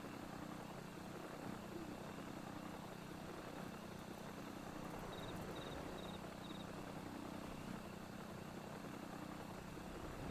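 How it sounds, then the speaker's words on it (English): A helicopter-style mount in Final Fantasy XIV gives a steady, faint rotor and engine drone with a few light high chirps midway, heard alone without talk. "I like the helicopter noises this one makes."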